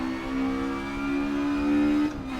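A Ford Escort Mk1 in Assetto Corsa holds a steady, moderate engine drone at mid revs on a Bannochbrae track. The tone climbs gently, then drops abruptly near the end as the revs fall, close and continuous with no talking.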